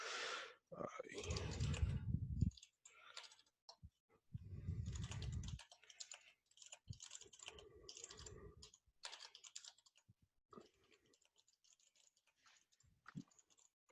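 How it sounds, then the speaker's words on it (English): Typing on a computer keyboard during an online call about signing software artifacts, a quick irregular patter of key clicks coming in bursts between stretches of a man's speech, fairly close and moderately quiet. "I'm trying to type and talk at the same time."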